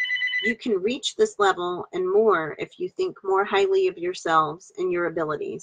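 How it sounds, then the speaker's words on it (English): A telephone rings briefly at the very start with a bright tonal trill, then is cut off as a voice carries on reading spiritual channelled material aloud in a steady, close monologue. "Sorry about the phone ringing."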